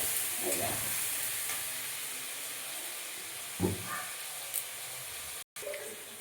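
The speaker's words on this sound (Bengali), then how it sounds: "এই কষে নিলাম মশলাটা ভালো করে" Spice paste cooks down in oil with a soft, hissing sizzle, fairly quiet and steady, broken by a couple of scraping stir strokes and light pan knocks, then a brief dropout near the end.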